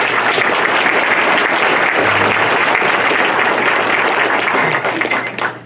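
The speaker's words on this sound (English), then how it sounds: "Let's give those folks a round of applause." An audience applauds candidates for North Stormont Council at a 2018 all-candidates' meeting: dense, steady clapping from many hands fills the room at full volume and only thins near the end.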